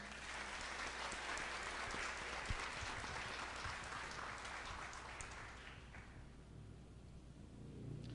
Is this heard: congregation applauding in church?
yes